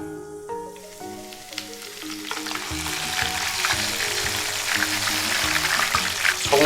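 Ginger and scallions sizzle in hot oil in a wok, a steady bright crackling hiss that grows louder and denser, heard close under a soft background melody.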